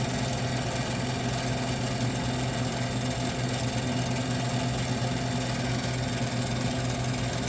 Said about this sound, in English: the condenser fan blades may need to be balanced, but it's blowing nice and cold